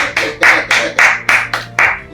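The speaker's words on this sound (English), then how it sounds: "Make a clap for you" A few people on a podcast clap together in about eight slow, evenly spaced claps, close and loud, with no talk over it.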